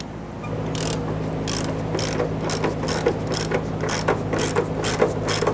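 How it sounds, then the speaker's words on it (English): Ratchet wrench working loose the bolt of the forward fuel tank strap on a Nissan Frontier 4.0L V6, a steady run of rapid close clicks and mechanical ticks over a constant hum. "We're now going to go ahead and remove our forward gas tank strap"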